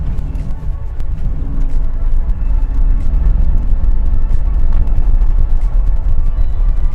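A Mercedes-Benz G63 AMG with a 5.5-liter engine pulls away, heard from inside as a steady, heavy low rumble of engine and road noise that carries on evenly without a break.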